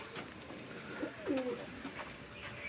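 Pigeons coo softly at a pigeon-keeper's loft, a low throaty burst of cooing near the middle over a steady hum of faint background noise.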